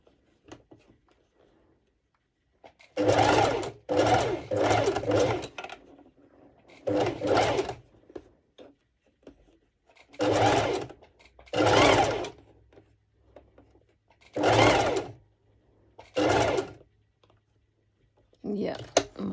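A sewing machine stitches a seam on a two-tone sporty top in short bursts of rapid mechanical whirring, separated by quiet pauses, close and fairly loud with no talking.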